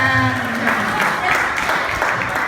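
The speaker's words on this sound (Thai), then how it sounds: "ขอเสียงปรบมือให้นักร้องเสียงเพราะหมายเลขหนึ่งด้วยค่ะ" A university class performance audience claps for the first masked singer, a continuous spread of applause while a voice talks over it.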